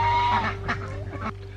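Chickens and ducks clucking and calling nearby in a short burst of several overlapping squawks against a steady background hum.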